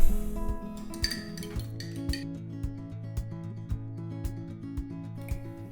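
Eggs being beaten with a fork in a bowl for quick breakfast pancakes, with repeated light clinks and taps of metal against the bowl at an uneven pace, close by and without talk.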